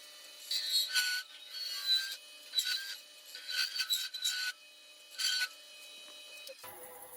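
A hand tool scrapes and rubs inside a wooden spintop in short, uneven bursts separated by brief pauses, quiet and close, ending with a small knock.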